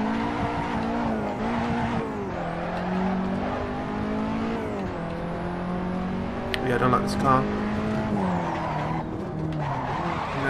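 Car in Assetto Corsa career mode slides through a long drift, engine droning as tires squeal continuously with shifting pitch, loud and close, while someone talks over it.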